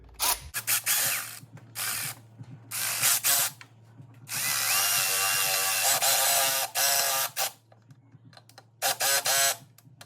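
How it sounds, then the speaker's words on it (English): Ratcheting wrench tightening a bolt on a 1996–2002 Toyota 3.4L engine during a spark plug job, heard as several bursts of rapid clicking pawl action separated by short pauses, close and fairly loud. "Now we need to tighten up this bolt"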